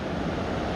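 Water rushing beneath a river of boulders below a Sierra lake on a backpacking route, heard as a steady, close, broadband roar mixed with some wind rumble throughout the short stretch.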